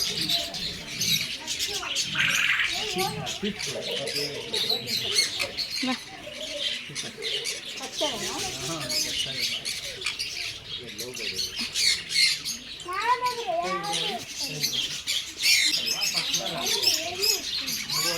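Loud, continuous squawking and chirping from many birds close by at a pet sanctuary, a busy chattering flock with voices faintly mixed in.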